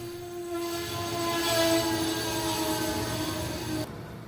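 Nine-car Amtrak train with locomotives at each end pulling into the Newark, Delaware station on the Northeast Corridor, a loud rising roar of wheels and engine with a brief horn-like tone, cutting off near the end.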